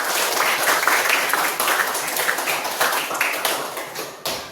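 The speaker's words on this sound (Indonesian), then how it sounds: "Boleh tepuk tangan untuk kita semua." Students in a Pancasila education class clap their hands together at the end of a lesson, a brisk, steady burst of close applause lasting several seconds with a few sharper claps near the end.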